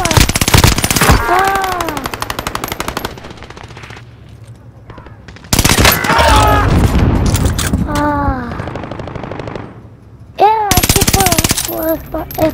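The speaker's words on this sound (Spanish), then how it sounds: "¡Están disparando!" Rapid automatic gunfire from a Call of Duty: Modern Warfare firefight, loud and close, with bursts of machine-gun fire and shots that stop and restart several times while excited voices shout over the shooting.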